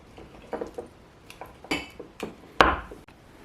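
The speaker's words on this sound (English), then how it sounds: "We're then going to muddle the lime, which helps it release its oil and aroma." A muddler presses lime in a cocktail glass, giving a handful of sharp knocks and taps close up, the last one the loudest, with no talk.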